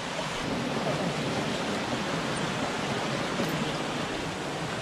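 A waterfall in the green hills near Omealca, Veracruz, Mexico, heard as a steady, loud broadband roar of rushing water that fills the whole clip without a break.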